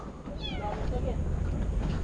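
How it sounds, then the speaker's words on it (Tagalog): A white kitten with blue eyes meows at a building project site in Bulacan, giving a few thin, wavering cries through heavy low background rumble and noise. "May naririnig ang pusa dito."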